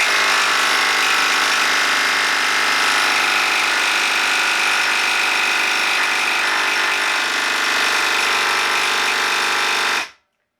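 A Milwaukee M12 3/8-inch stubby impact wrench in mode 3 reversing on a bolt torqued to 120 foot-pounds, a loud continuous buzzing hammer that runs unbroken for about ten seconds and then cuts off abruptly.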